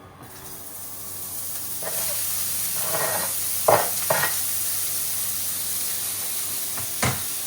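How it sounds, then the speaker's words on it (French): Sliced leek frying in olive oil over medium heat, a sizzle that builds from quiet to a steady hiss, with a few brief scrapes and knocks of a utensil in the pan, close, no speech. "Dans une poêle, chauffez une cuillère à soupe d'huile d'olive à feu moyen. Ajoutez le poireau émincé."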